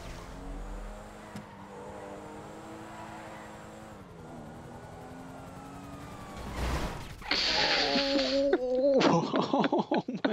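Cars and wailing police sirens in a video game, steady engine hum at first, then loud rising-and-falling siren tones and bursts of crashing noise toward the end.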